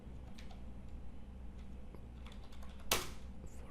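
Computer keyboard typing, soft irregular key clicks at low level, with one sharper louder clack near the end, no voices.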